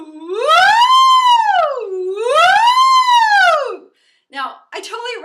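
A human voice imitates a siren with short, loud vocal sweeps rising and falling twice in pitch, followed by a brief bit of speech.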